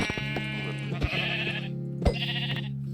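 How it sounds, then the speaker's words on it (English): Sheep in the Minecraft video game bleat twice in quick succession, clear wavering baa calls over steady game background tones. "pink sheep. That's cool. Those aren't too common."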